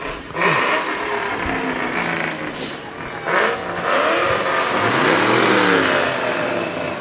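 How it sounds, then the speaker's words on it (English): A Ford muscle car engine revs and roars up close at an outdoor Christmas parade, rising and falling in loud bursts with crowd noise and chatter underneath. "Some muscle car action, sounds like."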